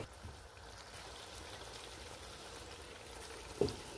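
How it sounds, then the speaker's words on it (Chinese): Hot water pours into a wok of vegetables, a soft, steady rushing trickle that stays faint and continuous, ending with a small clink near the close. "要加翻一啲熱水，份量呢要比較多一啲"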